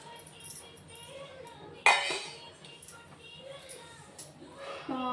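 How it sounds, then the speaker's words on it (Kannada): A spoonful of fenugreek seeds tips into a bowl for a hair remedy with one sharp metallic clink and a brief rattle, close by, while a person talks over it. "ನಾನು ಇದಕ್ಕೆ ಇವಾಗ 1 ಸ್ಪೂನ್ ಮೆಂತೆಕಾಳು ಹಾಕ್ತಾಯಿದ್ದೀನಿ"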